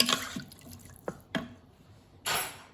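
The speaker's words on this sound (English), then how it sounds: "I go ahead and add a little bit more water, maybe just like another cup of water" Water splashes into a pot of gumbo on the stove. Scattered drips and short splashes are followed by a brief louder pour near the end, all close and fairly quiet.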